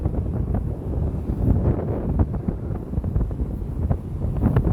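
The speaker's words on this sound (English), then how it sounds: "It's very windy." Strong, blustery coastal wind buffeting the microphone in a continuous low roar with gusty surges, near the shore where a fishing boat sits offshore.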